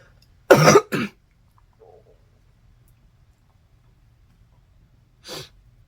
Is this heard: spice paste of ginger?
no